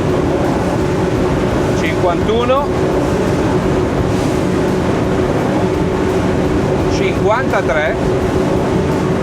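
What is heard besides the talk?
RIB motorboat engines at full throttle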